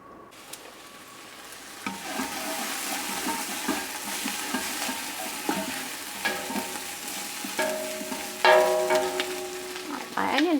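Onions for chili frying in a pot while being stirred: continuous sizzling with scraping stir strokes and occasional clinks of the spoon, close and fairly quiet, with no talking.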